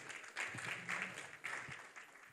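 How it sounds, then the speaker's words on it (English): Applause from the audience at a Zoho client engagement event in West Africa, a steady wash of clapping that swells in a few waves, moderately loud, with a faint voice briefly underneath. "I believe that deserves a better round of applause."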